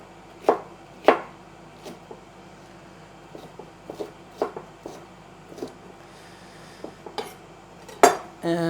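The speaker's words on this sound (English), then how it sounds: "So I'll just cut those into cubes." A knife chops red pepper into cubes on a board in a home kitchen, with sharp, separate thuds at an uneven pace and a few louder knocks among softer taps, close and alone.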